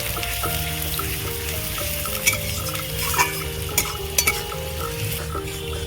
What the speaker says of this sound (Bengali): ফোড়নে দেবো গোটা গরম মশলা সাই জিরা পেঁয়াজ কুচি দিয়ে দেবো